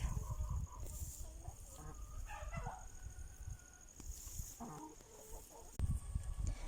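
Chickens clucking on a farm while being given chayote treats, scattered short clucks near and far over a steady outdoor background, with no talking.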